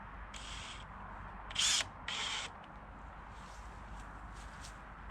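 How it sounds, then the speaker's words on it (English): A power drill whirs in three short bursts, the middle one loudest, against a steady background hiss of a quiet room. "Let me drill the holes first,"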